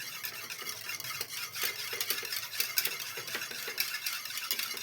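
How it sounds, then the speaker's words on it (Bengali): Yogurt (dahi) being whisked in a bowl for a chukaani recipe, giving a steady run of quick, close scraping and tapping strokes with no talk. "দইটাকে এখন আমি ফেটিয়ে নেব।"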